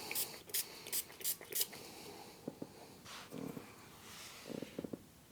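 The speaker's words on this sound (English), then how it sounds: "I'm just going to spray some alcohol in it." Short bursts of spray pump as isopropyl alcohol is misted onto the circuit board of a Sega Mega Drive / Genesis controller, five quick close spritzes in a row followed by faint handling and rubbing sounds, with no talking.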